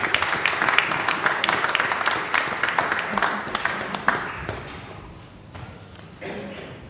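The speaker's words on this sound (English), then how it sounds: "So, should we give Growing Disciples a round of applause?" Church congregation at a Sunday morning service claps for a church group, a moderate round of individual claps and taps that thins out toward the end, with some shuffling and a brief voice.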